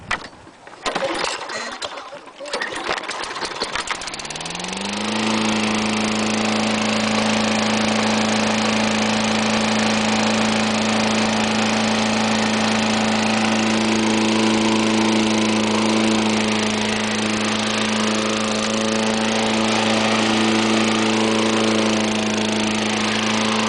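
A Tecumseh 6.5 horsepower lawn mower engine is primed and started after a few seconds of handling noise, then settles into a steady, loud idle that runs on alone without talk.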